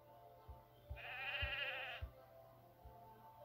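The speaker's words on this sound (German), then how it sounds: "Schafe umwerfen." A sheep bleats in the video game Dragons: Rise of Berk, one wavering bleat of about a second, moderately loud over a soft game background with a few low thumps.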